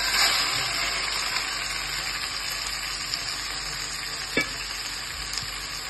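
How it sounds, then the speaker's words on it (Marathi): Chicken sizzles and fries in hot oil in a pot over a medium gas flame, a steady close crackle running throughout with a few faint clicks of stirring. "ते चांगलं गरम झालं की आपलं हे चिकन आपण त्याच्यामध्ये फोडणीला घालूया."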